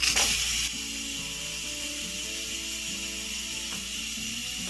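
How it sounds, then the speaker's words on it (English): An Instant Pot releasing pressure through its valve, opened with a spoon while making stuffed pepper soup: a loud, steady hiss of steam that steps down after a moment into a sustained, lower hiss with a faint mechanical hum. "So now we have to release the rest of the pressure using a spoon or something"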